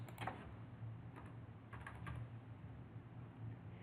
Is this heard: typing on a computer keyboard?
yes